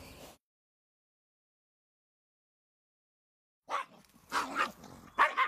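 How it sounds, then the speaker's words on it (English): A dog growls and barks in short, irregular bursts after a long silence, the sounds fairly close and moderately loud. "the dog will growl or bark"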